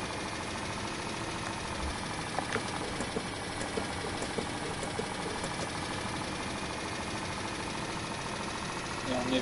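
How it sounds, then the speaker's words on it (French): Old bus idling in the countryside in the Bus Driver game, a steady low mechanical drone with faint periodic ticks, holding evenly throughout beneath intermittent speech. "On entend le moteur."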